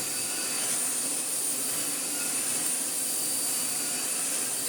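Miele Blizzard CX1 vacuum cleaner running on a hard floor, a loud, steady close-up whine and rushing airflow with no pauses or talk.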